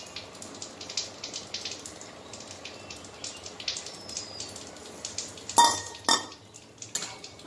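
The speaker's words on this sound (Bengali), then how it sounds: "এবার আমি দিয়ে দেবো এই পটলগুলো" Pointed gourds tipped into a pan and stirred with a utensil during Bengali vegetarian cooking, giving repeated metal scrapes and clinks near the mic, with a couple of louder knocks toward the end.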